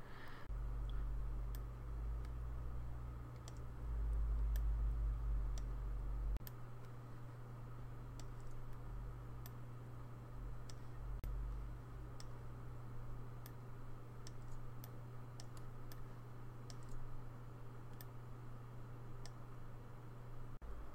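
A computer mouse clicks faintly and sporadically, in scattered single clicks over a steady low electrical hum in a quiet room.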